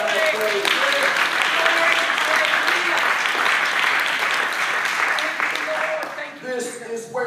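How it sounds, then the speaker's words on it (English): A church congregation at Apostolic Life Church in Pensacola, Florida, gives a sustained hand clap of praise: dense, steady applause from a large group for several seconds, with voices and cheering mixed in. "Let's give Him a hand clap of praise."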